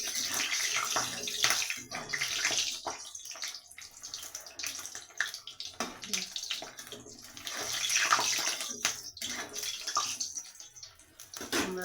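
Paneer kofta balls sizzle steadily in very hot oil, a dense continuous crackling and bubbling hiss that swells and eases but never stops, close by with no voices.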